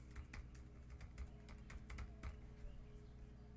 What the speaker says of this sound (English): I'm going to begin keying in the information for the book that I'm going to enter